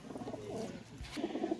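A Pakistani teddy pigeon coos in soft, low, rolling phrases, close and fairly quiet, with a short pause mid-way before the cooing resumes.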